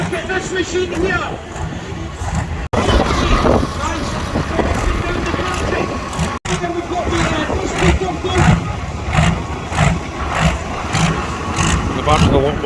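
A custom single-turbo truck-pulling tractor with a 2 High Duco setup roars steadily at a tractor pulling event in Brechin, Scotland, loud and close, with an announcer talking over the engine noise throughout.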